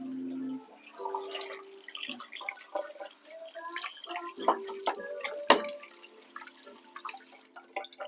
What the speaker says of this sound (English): I'm going to wash that off my hands.